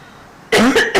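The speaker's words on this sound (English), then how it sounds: "She's going to have a cough and fit here" A close, loud cough bursts out in three quick harsh spasms after a moment of near silence.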